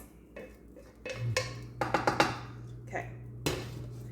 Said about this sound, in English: So I'm just gonna put it in this bowl right here.